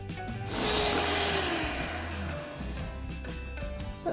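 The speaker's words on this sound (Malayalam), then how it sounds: "ഒരു ബൗളിലേക്ക് 300 മില്ലി വിപ്പിംഗ് ക്രീം ഒഴിച്ചു കൊടുത്ത് നമുക്ക് നന്നായിട്ട് ഇതൊന്ന് വിപ്പ് ചെയ്തെടുക്കാം." Whipping 300 ml of whipping cream with two tablespoons of sugar in a bowl, likely with an electric mixer, a steady whirring drone with scraping that runs throughout at moderate volume.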